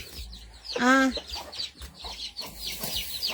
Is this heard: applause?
no